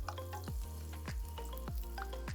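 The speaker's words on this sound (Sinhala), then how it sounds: "ඉඟුරු සුදු ලූණු හොඳට බැදෙන්න දෙන්න" Ginger and garlic fry in sesame oil with a steady, even sizzle, broken by a few soft knocks of a utensil against the pan; no voices.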